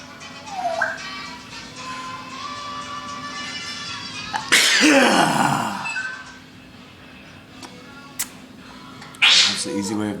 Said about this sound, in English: That's the easy way of making yourself sneeze.